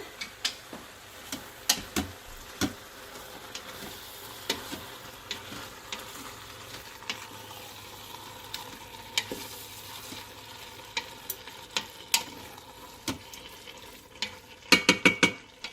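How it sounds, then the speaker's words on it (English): A spoon stirs diced tomatoes into tender vegetables in an Instant Pot, giving irregular scraping clicks and taps against the metal pot over a faint background, with a quick cluster of sharper knocks near the end. "we're going to add our diced tomatoes. And we're going to mix those in."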